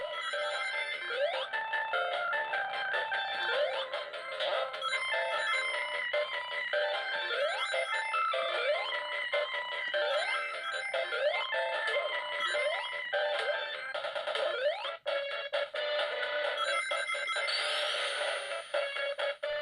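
Sonic the Hedgehog running on an A7 Retro Arcade Mini handheld's Sega Genesis emulation, with garbled, distorted music playing continuously and loudly throughout, dense electronic tones warbling without pause and no voices.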